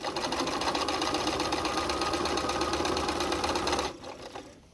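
Sewing machine stitching quilt binding, a steady, fast, close mechanical whir of needle strokes running for several seconds before stopping abruptly, leaving a quieter hum.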